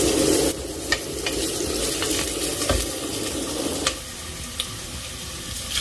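Garlic, onion and ginger sizzle as they are sautéed in a pan for chicken tinola, with steady frying hiss broken by occasional scraping stirs and a few light clinks, alone without talk.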